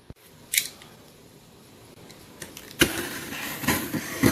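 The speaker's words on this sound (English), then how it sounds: "I don't want to cut too deep because I don't want to cut any wires if there is wires in here" A blade cuts through the packaging of a FAST E6 HI-6RC circle track ignition box kit, with a sharp snip early on, then quiet, then a longer scraping, rasping cut near the end.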